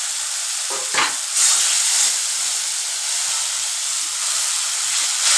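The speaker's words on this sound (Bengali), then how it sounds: "বাটি দিয়ে একটু জল দিয়ে দিলাম" Water poured into a hot frying pan while cooking Bengali chana dal with spice and asafoetida gives a sudden loud sizzle and hiss about a second in, settling into a steady close frying sizzle that continues throughout with no talking.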